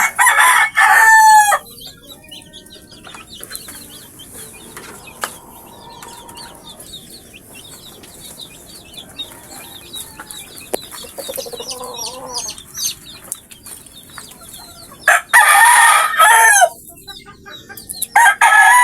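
Farmyard chickens clucking with a rooster crowing loudly near the start and again later, chicks peeping in between, close and lively with no speech.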